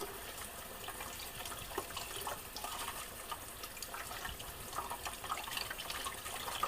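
Quinoa rinsed under a running kitchen tap, a steady, moderately quiet stream of water splashing and gurgling through the grains without a break.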